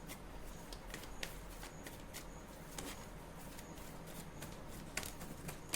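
Tarot cards being shuffled by hand, a steady papery riffle and patter of cards with sharper slaps at intervals, close and fairly quiet, without speech.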